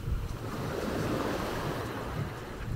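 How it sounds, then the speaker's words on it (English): Ocean surf rolls onto Vanilla Beach in El Nido, Palawan, a steady, fairly loud wash of breaking waves with some wind buffeting the microphone and no voices. "the waves were much wavier than this yesterday"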